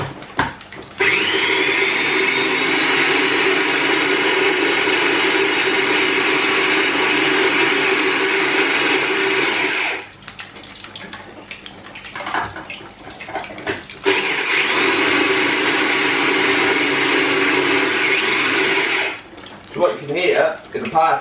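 A small mini blender whirs loudly in a home kitchen while chopping parsley, two sustained high-pitched motor runs of about nine and five seconds each with a short quiet gap of handling noise between them.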